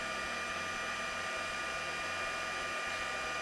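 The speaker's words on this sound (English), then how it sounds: "the heat gun starts to blow it off the table on you" A heat gun blows hot air across a small embossed die cut on a craft table, giving a steady, close, unbroken whooshing roar for the whole stretch with no voices.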